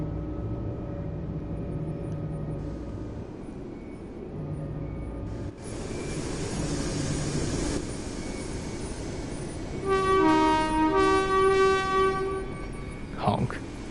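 Horn of a Scotrail Express train in Train Sim World 4, sounding as a loud multi-tone blast over the rumble of the moving train, followed by a brief higher squeal, with engine drone throughout.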